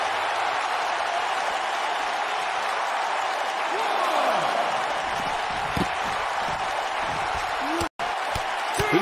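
A wrestling arena crowd in WWE 2K19 roars steadily throughout as a loud, dense wall of cheering, while a commentator speaks over the noise, with occasional thuds and a brief dropout near the end.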